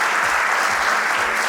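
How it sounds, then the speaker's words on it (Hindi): An audience at a corporate award night in Surat applauds as Mr. Jayanti Narola joins the stage, a loud, continuous wash of clapping filling the room. "प्लीज़ जोरदार तालियां होंगे मिस्टर जयंती नारोला सर के लिए"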